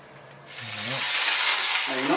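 A power drill spins up with a drill bit and runs with a steady high whine and grinding buzz, close by, with faint voice-like tones underneath.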